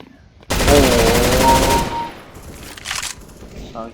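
Rapid automatic gunfire in the video game CS:GO, a loud dense burst of shots lasting about a second and a half, followed by a few fainter scattered shots, with brief speech.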